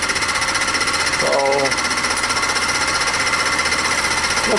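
A fly cutter on a mini mill taking a climb cut in aluminum gives a loud, continuous rapid chattering rhythm, with a voice briefly heard over the steady machining noise.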